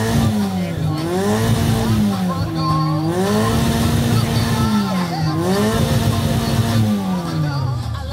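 A 1987 Škoda 130 engine revs hard at a car sound-test competition, climbing and dropping through several loud rev cycles over about eight seconds with a raspy, racing-style tone.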